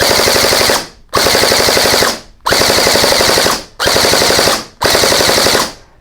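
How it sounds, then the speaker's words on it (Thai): An all-black N4 airsoft rifle with a steel barrel fires five loud, close bursts of full-auto fire. Each burst is a rapid rattling stream lasting about a second, split by brief gaps of silence. "ทีนี้ยิงรัวเลยดีกว่าแบบได้เอาค่าเฉลี่ยไปเลย"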